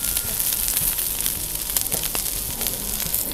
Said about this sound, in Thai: นี่เขาจะมีหินร้อนเนี้ยให้เราวางแล้วได้ยินความฉ่าไหม